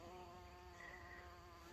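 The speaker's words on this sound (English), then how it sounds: "it's carpenter bee." In a garden early in the morning, a carpenter bee gives a faint, steady droning buzz that holds unbroken over a short stretch.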